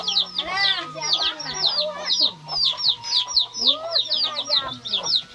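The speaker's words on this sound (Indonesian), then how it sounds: "Ayam nih." Farm chickens in a rural village cluck repeatedly and close by, with short overlapping bursts and a brief crow-like call, while people talk intermittently underneath.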